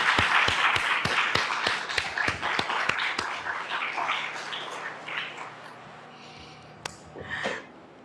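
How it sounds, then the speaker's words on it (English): An audience claps, strong at first with sharp individual claps, then thinning and fading out toward the end. "Can we give them another round of applause?"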